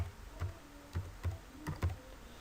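Someone types a document title on a computer keyboard in Word 2010, producing about six quick, crisp key clicks in an irregular rhythm, close and quiet with no voices.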